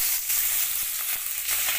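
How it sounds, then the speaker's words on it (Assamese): Meat sizzles in a hot pan after eggplant has been fried, a bright continuous crackling hiss with small pops and occasional stirring clicks, close and steady, no voices. "এতিয়া মই মাংসখিনি বহাওঁ"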